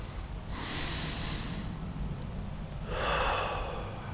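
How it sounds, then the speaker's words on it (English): A person outdoors on a cold evening around the 40s °F takes one deep breath in, then lets it out after a short pause. Both breaths are close, airy and audible. "Breathe out the indoor air that I've been breathing all day."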